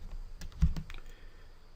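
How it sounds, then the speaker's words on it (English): Keys clatter on a computer keyboard in a short run of a few quick, close presses and clicks, fairly quiet with no talk. "type in IN for inputs, and hit enter"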